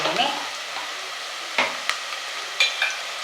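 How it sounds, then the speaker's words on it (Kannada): Curry leaves dropped into hot oil while cooking Hithakida Avarebele Saaru, giving a steady soft sizzle with several sharp crackling pops along the way, close and clear with no talking. "ಕರಿಬೇವಿನ ಸೊಪ್ಪು ಹಾಕ್ಕೊಳ್ತಾ ಇದ್ದೀನಿ"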